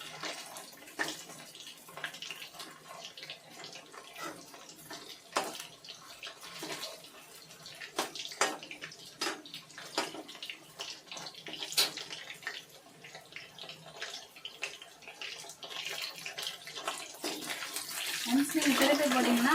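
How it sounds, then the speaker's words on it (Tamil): Chicken pakoda frying in oil, a steady bubbling hiss that grows louder toward the end, with a person talking over it. "நல்லா கிறிஸ்ப் ஆகுற வரைக்கும் மிக்ஸ் பண்ணி விட்டுட்டு ஃப்ரை பண்ணி எடுத்தா நம்ம சிக்கன் பக்கோடா ரெடி"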